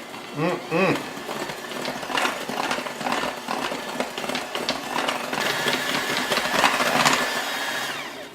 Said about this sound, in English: we'll use our mixer and start combining this together